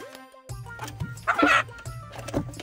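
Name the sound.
chickens clucking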